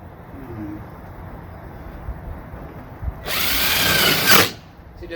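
After a few quiet seconds, a power drill whirs in one short burst of about a second, close and clear, drilling a hole in a Jeep Wrangler hood, then stops.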